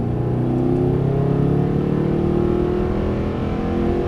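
Mercedes-Benz SLS on a race track, engine droning steadily under light throttle with a constant near rumble throughout and no voices.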